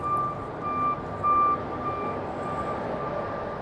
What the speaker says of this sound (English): Yeah, it's a big garbage truck over there at the dumpster.